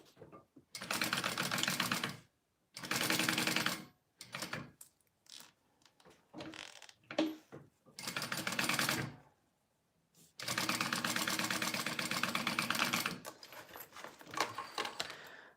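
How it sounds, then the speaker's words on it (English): A sewing machine stitches a quarter-inch seam along the top of a crossbody bag beside its zipper, running in several bursts of a few seconds each, with short pauses and small handling clatters between runs. "sew that with a 1/4 inch seam allowance along the top."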